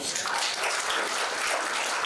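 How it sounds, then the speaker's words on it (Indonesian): A church congregation claps together in a continuous, even burst of applause, fairly loud and without pauses. "Dan setuju, kita tepuk tangan buat."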